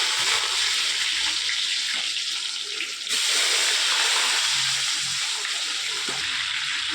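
Sun-dried mango pieces coated in turmeric drop into hot oil with panch phoron for pickle, making a loud, continuous hissing sizzle that holds steady and briefly dips before surging again.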